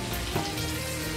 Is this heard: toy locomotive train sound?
no